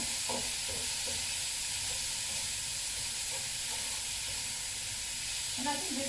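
Vegetables in a stir fry give off a steady, loud, broadband sizzle from start to finish, with faint voices and occasional utensil clinks underneath.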